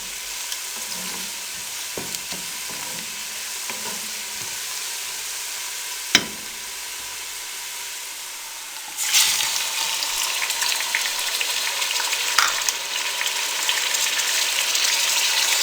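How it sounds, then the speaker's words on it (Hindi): Tomatoes go into browned onions in a frying pan, a soft hiss giving way to a louder, steady crackling sizzle with occasional stirring taps. "प्याज हमारे ब्राउन हो चुके हैं। अब इसमें हम टमाटर डाल देंगे।"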